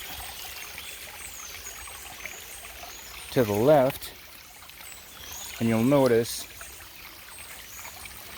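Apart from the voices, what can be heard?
spring-fed stream water trickling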